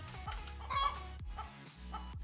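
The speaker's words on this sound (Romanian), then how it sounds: "Găină nesuferită. Găină catapultă." A cartoon chicken in a chicken-catapult egg game clucks in several short, close bursts, one after another.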